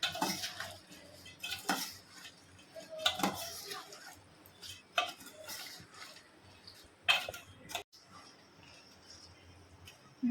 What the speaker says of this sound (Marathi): माझी बुंदी झालेली आहे बनवून आणि साखरेच्या पाकात घालते आहे अशी मिक्स करून घ्यायची आहे